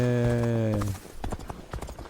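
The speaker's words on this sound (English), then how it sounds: "I wonder if I can make this horse flip." Hooves clip-clop in a video game as a horse trots, starting after a sustained tonal note and continuing as a quick, uneven series of close, sharp knocks.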